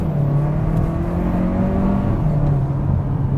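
2022 Hyundai Kona N-Line accelerating hard at full throttle from a stop, heard from inside the cabin as a loud, steady engine drone with a rising tone, continuous throughout.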